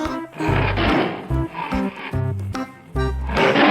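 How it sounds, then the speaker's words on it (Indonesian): A toy lion gives a loud electronic roar, broken into several bursts of growling tones with short gaps between them. "ada singa si raja hutan"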